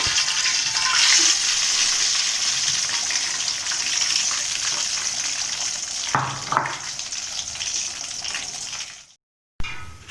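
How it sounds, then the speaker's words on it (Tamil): Chicken drumsticks frying in oil in a pan, a steady loud hiss and sizzle that fades slightly, with a couple of clunks and stirring sounds before it cuts out briefly at the end. "இதே மாதிரி எல்லாமே வறுத்து எடுத்துருவோம் எல்லாத்தையும்."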